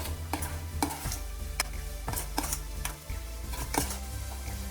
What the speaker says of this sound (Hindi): Half tea spoon mustard oil डालेंगे और चॉप्ड धनिया ऐड करेंगे। इसको मिला देंगे।